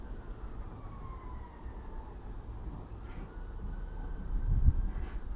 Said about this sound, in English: What's going on to need these sirens?